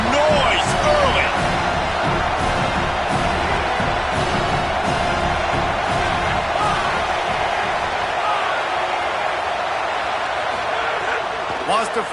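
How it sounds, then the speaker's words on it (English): Crowd cheering in a college football video game, a dense continuous roar of stadium noise that stays loud throughout, with commentary voices running over it. "This crowd bringing the energy and noise early."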